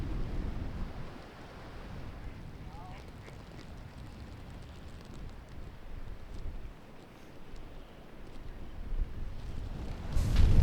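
Wind gusting across an outdoor disc golf course at the Andalucia Open, a steady low rumble of buffeting against the microphone that swells toward the end, with a few distant ducks quacking faintly.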